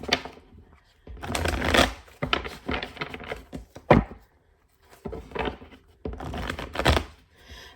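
Tarot cards being shuffled by hand during a reading, crisp papery riffles and slaps in several bursts with short pauses between, close and fairly loud, no talking.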